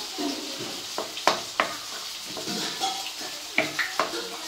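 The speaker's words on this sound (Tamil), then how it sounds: "இப்போ வந்து நம்ம முந்திரி திராட்சை இப்போ நல்லா மிக்ஸ் பண்ணி விட்டுக்குங்க" Cashews and raisins are stirred into bread halwa in a pan, a spoon scraping and clinking against the metal in repeated strokes over a soft, faint sizzle, close and quiet throughout.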